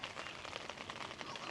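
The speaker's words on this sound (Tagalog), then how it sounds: "Ambon-ambon lang." Light drizzle patters on a tent at a campsite near Banff, a faint, dense, steady pitter-patter of fine drops with no voices.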